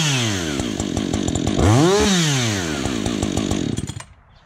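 A Husqvarna 562XPG stock chainsaw, already warmed up, revs up to a screaming peak, holds a high whine, then drops back and cuts off abruptly near the end.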